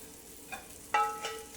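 Breakfast sausages are tossed in a hot pan, producing a soft background sizzle broken by two or three short, sharp bursts of scraping and spitting as they are moved.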